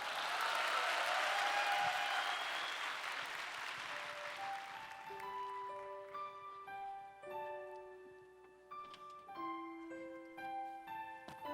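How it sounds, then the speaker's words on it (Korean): An audience at a church evening of thanksgiving applauding, a broad wash of clapping that fades out over the first few seconds, then gives way to sustained piano or keyboard notes. "다음 순서 큰 박수로 모시겠습니다."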